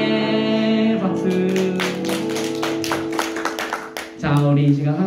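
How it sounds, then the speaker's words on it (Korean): A church congregation at a winter retreat worship service clapping together in a steady rhythm over sustained hymn music, the claps sharp and close and then stopping as the music carries on. "박수"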